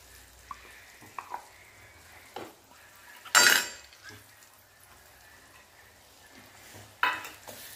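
Moong dal and semolina roast in ghee in a pan over a low flame, with a faint background sizzle broken by occasional scraping stirs and a few sharp clinks of the spoon against the pan.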